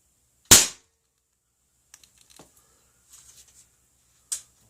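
An air rifle fires a PDG pellet: one sharp, loud crack, then a few faint mechanical clicks and rattles of handling, and a second, softer snap near the end.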